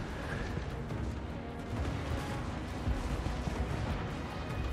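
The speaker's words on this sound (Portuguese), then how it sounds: "Nossa, artilharia de fogo é ridícula." Artillery fire in the video game Total War: Warhammer 3 makes a dense, rumbling battle din with muffled booms beneath, steady and moderately loud.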